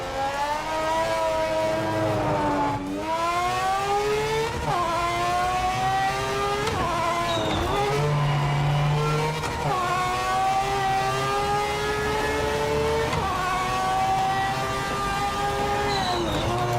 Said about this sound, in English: I want you guys to rate these downshifts out of 10